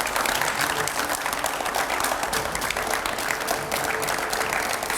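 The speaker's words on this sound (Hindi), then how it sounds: "जोरदार तालियां हो जाएं।" A TV9 studio audience gives loud, sustained applause to welcome politician Om Prakash Rajbhar. The dense clapping stays at an even level from start to finish.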